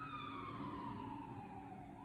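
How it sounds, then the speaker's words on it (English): A siren wails at a distance, its pitch sliding steadily downward as it passes, faint but continuous. "now the siren has gone by"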